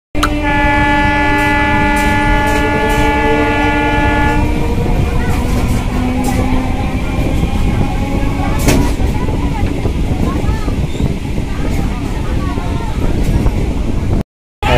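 Digha–Howrah local train in motion, opening with a long, loud, sustained horn blast of several seconds, then rumbling wheels and rail clatter continue close and loud, with voices underneath.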